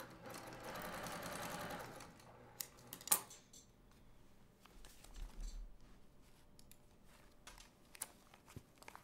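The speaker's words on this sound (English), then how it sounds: "Sew to the very end, all the way through." A sewing machine runs a short burst stitching a quilt piece for a table runner, then stops, followed by quiet handling clicks and light knocks at close range.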